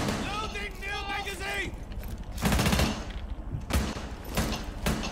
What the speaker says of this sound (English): This gun shoots weird to me.